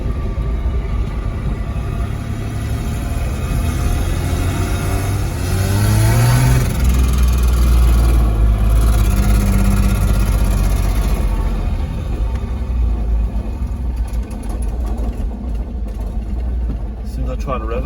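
Holden VL Commodore engine, close and loud, running a steady idle with swells of revving, while a voice talks over it at points.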